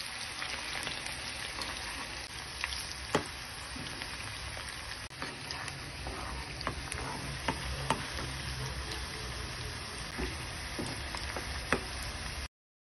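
Raw banana slices fry in hot coconut oil in a kadai, a steady dense sizzle with scattered crackles and small pops running throughout, close and continuous with no talking.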